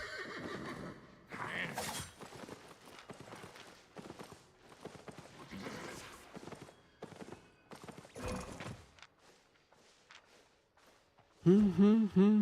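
A horse mount in World of Warcraft whinnies loudly and close near the end, a repeated wavering neigh standing out after a stretch of game sounds, hoofbeats and thumps.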